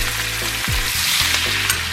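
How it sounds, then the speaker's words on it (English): Chopped onions and green peppers sizzle steadily in hot bacon grease with a little olive oil, a loud, continuous frying hiss with brief stirring scrapes. "We're going to put our onions right off in here with our green peppers."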